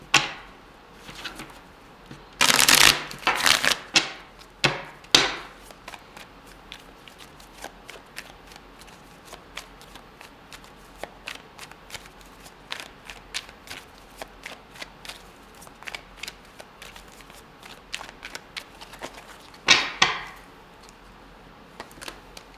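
Tarot cards being shuffled, with loud bursts of riffling near 3 seconds and again near 20 seconds, and softer handling and tapping of the deck in between; no one speaks.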